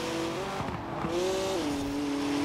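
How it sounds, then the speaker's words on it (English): A BMW M4 GTS six-cylinder engine in the Forza Horizon 4 racing game drones steadily at moderate volume, its pitch rising through a gear then settling lower, with a few faint clicks. "that BMW is quite loud for being a little four-banger"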